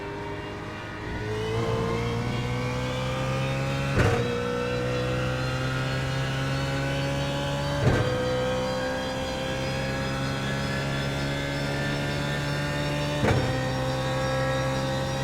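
A BMW Z4 GT3 race car in iRacing at Interlagos holds full throttle with a loud, sustained engine howl, broken by brief gear-change blips roughly every four to five seconds.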